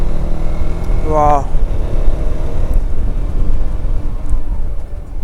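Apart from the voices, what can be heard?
Apache RTX 300 motorcycle engine roaring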